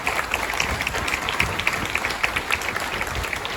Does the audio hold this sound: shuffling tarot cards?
no